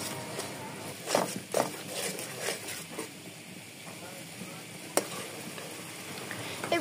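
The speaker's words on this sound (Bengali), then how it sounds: "টক দই দিয়ে এরপর সব ভালো মতো আবার নাড়িয়ে নেব।" Fish curry masala with sour yogurt simmers and sizzles in a pan while a spoon stirs it, producing several scraping strokes and clacks over the steady bubbling sound, close and moderately loud.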